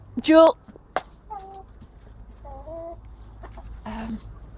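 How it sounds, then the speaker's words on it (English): Several hens in a straw-bedded coop cluck and squawk in short bursts, one loud close squawk at the start, with lower clucks following through the flock. "a bit of a pecking order is unfortunately kind of part of being a chicken flock"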